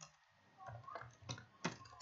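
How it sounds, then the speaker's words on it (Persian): Computer keyboard keys clatter in a few short bursts of typing while a letter is composed in Microsoft Word, close and moderately quiet, with brief pauses between strokes and no talking. "فعلا دارم تایپ میکنم."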